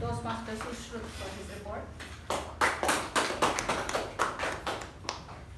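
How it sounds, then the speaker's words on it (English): A meeting room full of Toastmasters club members bursts into a round of applause, dense clapping swelling in after a brief stretch of talk and continuing steadily to the end. "let's give Toastmaster Abhimaan and ourselves a big round of applause"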